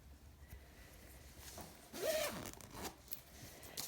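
A black zip on a sheep-print fabric bag with a cream and beige polka-dot lining is pulled open in one short, close zipping stroke, with a second fainter rasp after it against a quiet room.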